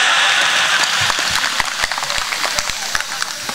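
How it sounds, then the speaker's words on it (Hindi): Audience applause at a live Hindi comedy show, a dense wash of clapping with sharper individual claps standing out, loud and close, under some voices. "ताली बजाएं आप"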